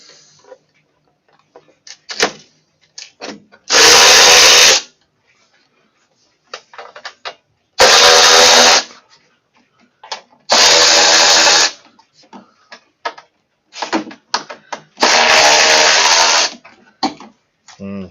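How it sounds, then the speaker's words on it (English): Power drill loosening six shoulder bolts on the deck of a John Deere L120 riding mower with a V-twin Briggs & Stratton engine, with three loud sustained whirring bursts of about one to one and a half seconds each between quieter clicks and handling noises. "They're kind of a shoulder bolt holding the top on."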